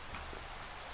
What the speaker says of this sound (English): Alright, stop raining finally, so the audio's not gonna sound scuffed.